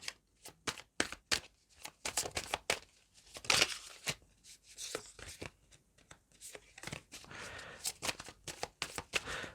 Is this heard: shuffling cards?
yes